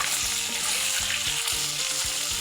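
Tilapia fish frying in hot oil, a steady dense sizzle with crackling filling the whole stretch, close and loud with no talk.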